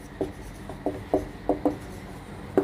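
Short scratchy strokes of writing on a board, several separate marks in an uneven rhythm, close and moderately loud, with no talking.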